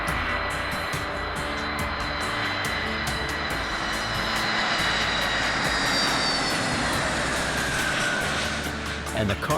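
The engines of a C-5M Super Galaxy cargo aircraft roar steadily and loudly on final approach to landing, a broad continuous rumble with a faint voice murmuring underneath.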